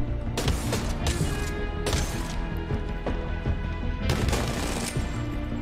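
Shotgun gunfire in a video game, with loud close blasts and sharp impacts in several bursts over a few seconds. No talk.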